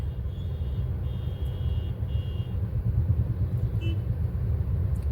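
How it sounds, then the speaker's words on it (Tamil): Busy road traffic in Anna Nagar, Chennai rumbles on without pause, with engines droning at middle distance and a few faint high tones over the steady low roar. "அண்ணா நகர் எப்படி இருக்குது பாருங்கள் டிராஃபிக்கை பாருங்க"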